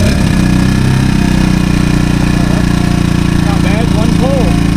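A small portable generator bought at a garage sale runs loudly and steadily right up close after starting on one pull, a constant engine drone with a voice speaking over it.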